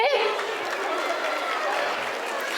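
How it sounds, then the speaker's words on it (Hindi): A seated audience at the Abhivyakti 2024 stage event applauds to welcome children onto the stage: dense, steady clapping with crowd noise, close and loud throughout. "So please a big round of applause"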